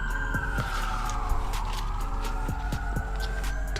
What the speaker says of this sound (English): Y'all heard those sirens and Bear up there